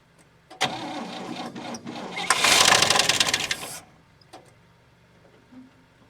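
A 1959 Oldsmobile 98 engine catches after a brief crank, roaring loudly for a few seconds with a rising rev, then cutting out into quiet with faint knocks.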